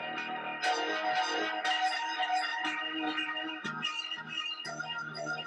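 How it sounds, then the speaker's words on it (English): A melodic loop runs through a Chroma Console guitar pedal, giving warped, shimmering tones with shifting, layered notes that play continuously without any voices. "I was flipping it and processing it through my guitar pedal to make it sound like this."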